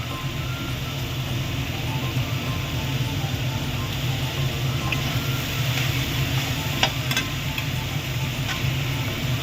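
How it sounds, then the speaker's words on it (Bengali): Shredded cabbage stir-fried in a cooked spice masala, giving a steady, close hiss of frying with faint scraping of stirring throughout and no talk. "মশলাটা কষানো হয়ে গেল, বাঁধাকপিটা দিয়ে দেবো।"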